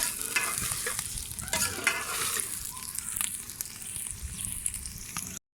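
Bitter gourd frying in a pan while being stirred, a steady crackling sizzle with scraping strokes of the spoon throughout, fairly close and without talk.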